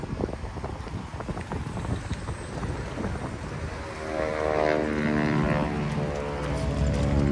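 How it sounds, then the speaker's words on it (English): Strong wind buffets the microphone at the Oshkosh airshow, a rough, gusty low rumble that builds and grows steadier, with a faint engine-like drone rising underneath. "The winds are quite high today."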